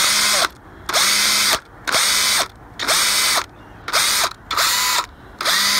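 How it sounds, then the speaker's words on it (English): A salvaged power drill that had been left out in the rain runs in repeated short bursts, its motor whining up and cutting off about seven times in a quick on-off rhythm, close and loud. "Hey, I found this drill right here."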